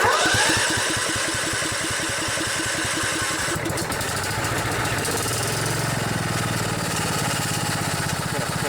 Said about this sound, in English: All of these mowers have been sitting a while, so they're Kind of having a tough time starting up